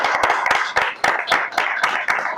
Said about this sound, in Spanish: te tenemos que dar un aplauso de despedida